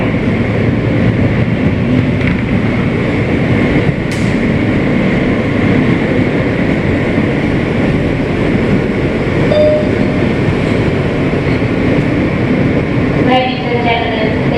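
A Bay Parkway-bound New York City subway W train made up of Kawasaki R160B cars rides along with a loud, steady rumble and wheel roar throughout, with a voice speaking over the noise.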